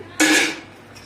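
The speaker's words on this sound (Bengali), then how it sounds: "আমল বাদাম দিলাম, কাজু বাদাম দিলাম, দিয়ে একটু নেড়ে চেড়ে নিচ্ছে।" Almonds and cashews are stirred in hot ghee in a pan with cardamom, cloves and cinnamon: one loud burst of sizzling and clattering that fades over about half a second, then a quiet tail.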